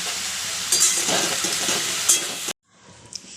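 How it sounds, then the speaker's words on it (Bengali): Potatoes and onion stalks fry in a pan seasoned with turmeric and salt, giving a loud, steady sizzle stirred with a few scraping bumps for about two and a half seconds. The sound then drops to a faint hiss. "এইবার আমি এই দুটো ভালো করে বেশ লাল লাল করে ভেজে নেব।"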